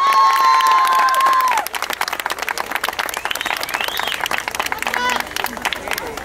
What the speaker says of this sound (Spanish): mucho más fuerte el aplauso para ellos